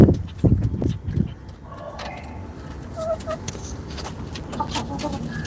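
Country hens cluck in a rooftop coop in Chennai, a few heavy low clucks up close at first, then softer, higher calls scattered through quieter background.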